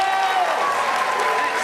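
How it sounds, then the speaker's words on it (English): A crowd gives two cheerleaders a loud, continuous round of applause, close and dense from start to end, with faint voices mixed in. "Give them both a massive round of applause!"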